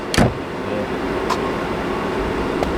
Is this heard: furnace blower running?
yes